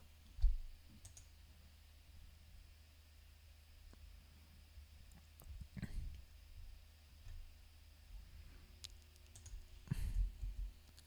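Keyboard typing and mouse clicks on a computer while searching for an operating system image in a cloud console, faint and sparse, with scattered soft clicks and a louder click near the start and end over low background noise.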